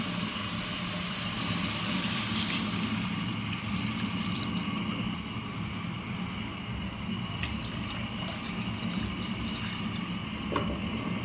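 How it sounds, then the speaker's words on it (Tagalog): Water pours steadily into a pot of sizzling pork with a continuous rushing splash over the frying, a few small clinks near the end. "Maglalagay na po tayo ng tubig."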